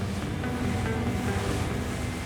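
Short, steep, wind-raised waves with foamy ridges wash and slap steadily against the hull of a Fjord 44 motor boat planing at speed, a continuous rushing mix of water and wind noise.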